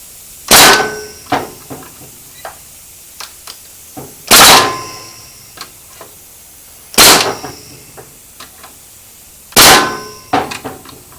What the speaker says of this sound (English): we've got 4-inch nailer now